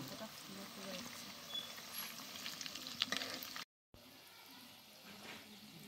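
Semolina chom chom sweets frying in hot oil, a soft continuous sizzle with light stirring and occasional clinks, fairly quiet with a short dropout partway through.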